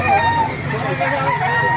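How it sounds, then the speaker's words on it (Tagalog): Roosters crowing at a Tiangge poultry market in Baliuag, Bulacan, a brief crow rising over a busy, noisy crowd, fairly close. "Ganda ng mga manok."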